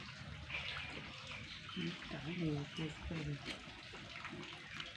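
Mangoes are washed in water, with continuous splashing and trickling sloshing in a basin. Someone talks over the water sounds.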